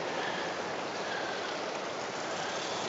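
Water pours steadily over a small dam in an irrigation channel in the desert oasis of Huacachina, Peru, a continuous broadband rush that stays even and close throughout with no voices.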